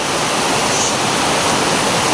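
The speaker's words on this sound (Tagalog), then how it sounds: "pinapalitan ko to ng tubig, itong tank na to" Water rushes and pours steadily into a guppy aquarium tank during a water change, a dense, continuous splashing hiss, loud and close, with no talking.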